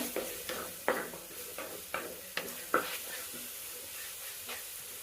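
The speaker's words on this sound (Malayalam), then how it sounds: "എല്ലാം ഒന്ന് പച്ച മണം മാറുന്ന വരെ ഒന്ന് ഇളക്കി വെക്കണേ" Masala being stirred in a hot pan while cooking a fish stew, with regular scraping strokes of the spoon roughly every half second over a soft sizzle, fairly quiet and without voices.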